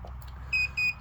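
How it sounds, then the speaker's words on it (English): A Level Mate Pro leveling device switched on gives two short, high electronic beeps in quick succession over a low background hum. "Turn it on, it gives you a couple beeps."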